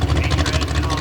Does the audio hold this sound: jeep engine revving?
yes